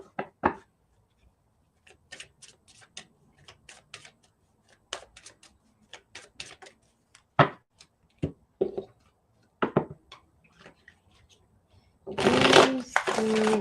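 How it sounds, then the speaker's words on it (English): Tarot cards being shuffled by hand, with scattered soft riffles and taps separated by pauses, then a louder burst of flicking near the end, close and quiet. "Just want to make sure I'm shuffling and clearing them up."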